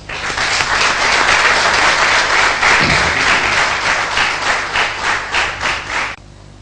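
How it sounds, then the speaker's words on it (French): Audience at an official event breaking into sustained applause, a loud, dense wash of many hands clapping for about six seconds before it cuts off abruptly. "on doit le saluer à sa juste valeur et l'applaudir"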